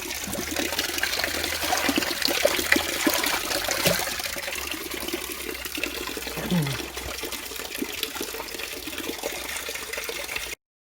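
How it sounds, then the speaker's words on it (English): Hot water poured into a bucket while preparing a hydro dip for engine parts: a steady, moderately loud splashing trickle with a faint gurgle, continuous for about ten seconds and heard alone. "I'm just pouring the last bit of hot water into the bucket."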